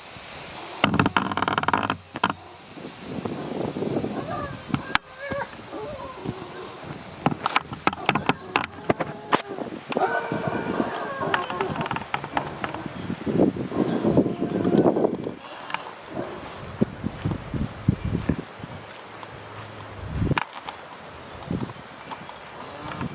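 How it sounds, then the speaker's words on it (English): Strong gusty wind buffets the microphone outdoors among blowing trees on a goat farm, producing loud uneven rumbling bursts and thumps that come and go throughout, with brief quieter gaps. "I'm going to try to put my hand over the mic and see if that will cut out some of the wind"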